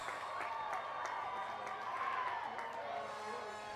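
A commencement crowd celebrating business graduates with cheering and scattered applause, a steady, distant wash of voices and clapping throughout.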